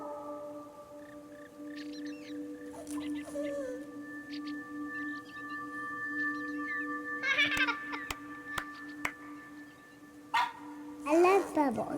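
In the video game That Dragon, Cancer, a dog named Manju gives a few short, high yips and barks over a steady tonal music bed, with louder bursts toward the end.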